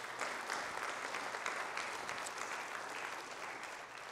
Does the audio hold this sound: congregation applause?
yes